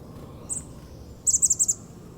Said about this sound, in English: A couple of chickadees, I think.